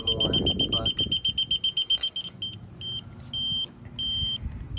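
A TOPTES PT199 combustible gas leak detector held near a gas tank sounds its alarm in a run of sharp, high, evenly spaced beeps that turn into longer tones, after a voice speaks briefly at the start.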